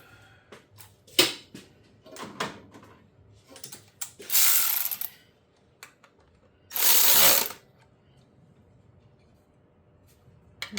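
Socket wrench ratcheting on a bolt in the engine bay of a 1987 Mitsubishi Conquest, heard as close, quick clicking bursts and two longer rasping ratchet runs with pauses between them.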